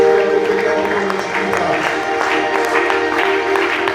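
A church congregation applauds and cheers in acclaim, a steady dense wash of clapping with crowd voices lasting several seconds at moderate loudness.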